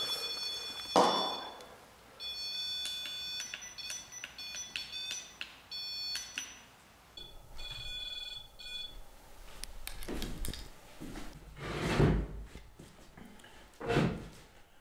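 An alarm device beeps several times in high, short bursts at a dark, reportedly haunted asylum filled with dolls, alongside a few thumps and door-like knocks in an otherwise quiet space.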